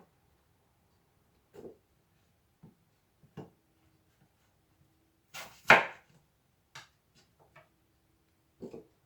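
A knife cuts through strawberries in a handful of sparse, quiet taps and slicing strokes against a board, with silence between them.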